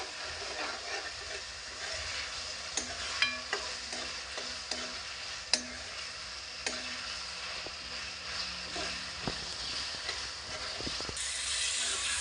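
Tomato masala for gobi kofta curry cooks in a pan until soft, giving a low, quiet sizzle broken by repeated spatula clicks and scrapes against the metal.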